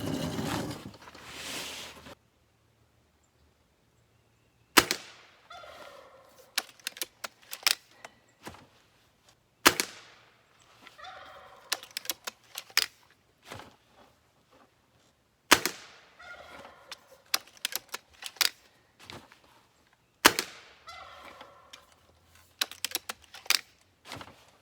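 Pellet rifle fired free recoil off a bench, five sharp shots spaced about five seconds apart, each followed by clicks and rattles of handling and reloading, close and otherwise quiet.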